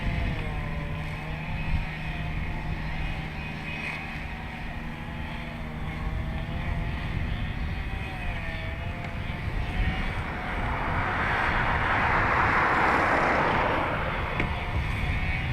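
An airplane takes off at Dublin Airport, its engines giving a steady, loud roar that swells in a broad rushing wash near the end.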